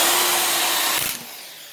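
Impact driver sinking hardened drywall screws, a loud continuous motor whine that cuts off sharply near the end after a brief couple of hammering impacts, with no talk.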